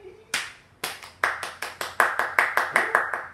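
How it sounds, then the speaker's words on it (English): A single person claps hands close by, starting slowly with spaced sharp slaps and then settling into a quicker steady rhythm of about a dozen crisp claps, alone without talk. "I'm still giving you the round of applause even."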